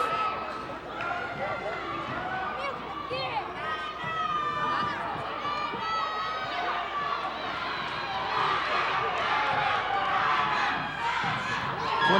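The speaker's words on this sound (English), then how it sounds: "Number 23 just took it coast to coast as the crowd erupts" A gym crowd at a girls' varsity basketball game cheers and shouts loudly and continuously, with high excited voices and chatter packed together and close.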